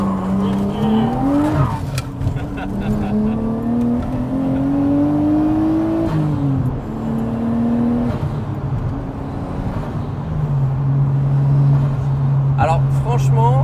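A Nissan Skyline GTS-T accelerates hard on an open road, its engine note rising through the gears with clear shifts between pulls, loud and close from inside the car before settling into a steady cruise.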